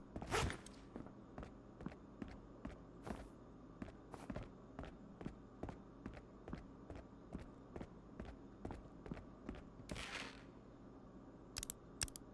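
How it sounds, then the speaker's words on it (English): Footsteps in the video game Marauders, a quiet, steady run of crisp steps in a regular rhythm across the whole stretch, with a few louder clatters and bursts mixed in. "I did hear the footsteps."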